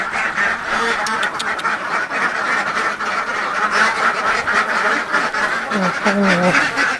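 Khaki Campbell laying ducks kept in a pen on a one-rai plot of about 700 birds, a dense, continuous chorus of quacking from many birds close by, with people talking over it.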